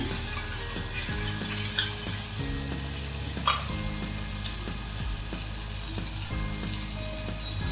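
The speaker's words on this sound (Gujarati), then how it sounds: "આપણે આ ટમેટાની ગ્રેવી છે એકદમ પકવવાની છે" Tomato gravy for stuffed brinjal curry sizzles and simmers in a pan while a spoon stirs it, with soft scraping strokes and light clinks against the pan over a continuous frying hiss and low rumble.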